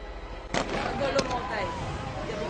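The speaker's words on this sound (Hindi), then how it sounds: "मुसलसल बाहर फायरिंग जारी है, इस कदर शदीद फायरिंग हो रही है" Heavy gunfire outside during a police operation in Lyari, Karachi, with two sharp cracks standing out over a dense rumble of distant shots and ongoing speech.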